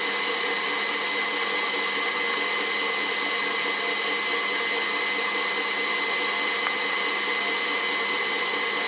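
A KitchenAid stand mixer with a whisk attachment whips cream into butter, giving a loud, continuous motor whir that holds steady throughout, with no voices.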